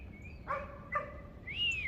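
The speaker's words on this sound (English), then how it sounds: "I don't need your barking." A dog barks twice in quick succession at moderate distance, each bark short and fairly faint, followed by a brief higher chirping call over a quiet background.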